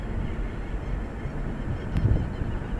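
Birds calling near the water at an eco park in Tobago, with goose-like honks rising briefly near the end over steady wind and outdoor background noise.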